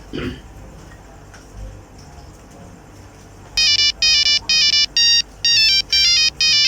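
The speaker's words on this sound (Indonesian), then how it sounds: "Yang telepon bang. Angkat lah tuh." A quiet room gives way to a loud electronic phone ringtone, its melodic pattern repeating in regular bursts.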